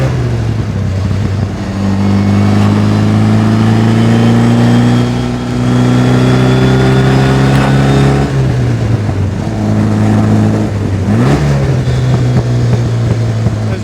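A 1956 Austin Healey 100M engine drones loudly and continuously while driving a twisty road, its pitch climbing through gears and dipping on shifts, with no talk.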